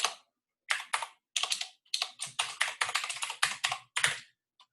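Typing on a computer keyboard during a live coding demo: bursts of rapid, crisp key clicks in uneven clusters separated by short pauses, close and clear with no talking over it.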